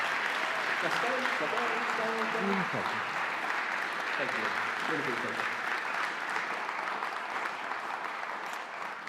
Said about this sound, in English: Can we just give Steve another real round of applause?